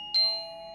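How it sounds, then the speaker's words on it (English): A video game doorbell chimes once, a clean electronic ding with a ringing tone that fades gradually over a quiet background. "the doorbell rings."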